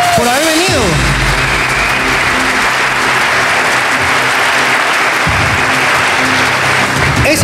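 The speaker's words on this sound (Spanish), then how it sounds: "solamente quiero darte un fuerte aplauso de parte de todos nosotros" Loud, dense applause from a studio audience on a Spanish-language talk show fills the whole stretch without a break, with voices and a cheer mixed in at the start.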